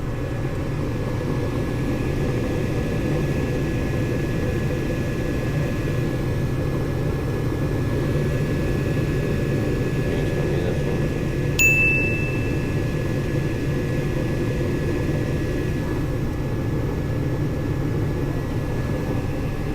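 Two furnace blowers running together, a steady loud low rumble with a constant hum and one brief high ding partway through, no talking.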